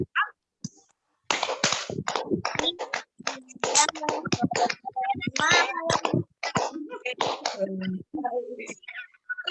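A group plays the tepuk pagi siang sore malam clapping game at a quickening pace, with sharp close hand claps and snaps interleaved with a chanting voice in short rhythmic bursts.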